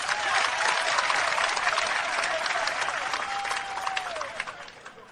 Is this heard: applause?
yes